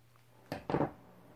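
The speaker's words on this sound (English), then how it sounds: "And then I'm going to cut that excess off" A pair of scissors or cutter snipping excess material off both sides of a handmade shabby chic wall plaque, two quick close cuts, the second longer and louder, with no talk.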